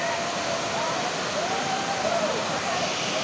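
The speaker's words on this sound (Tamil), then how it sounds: "இது மாசிலா அருவி." Masila waterfall in the Kolli Hills of Namakkal district, a bathing spot for tourists, gives a loud, steady, close rush of falling water that fills the whole stretch without pause.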